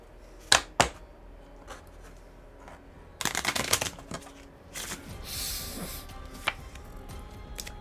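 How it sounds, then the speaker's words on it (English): A deck of playing cards is shuffled close by in quiet surroundings: a few sharp riffles and taps, then a longer burst of ruffling snaps and a softer sliding rustle. "let's shuffle these up"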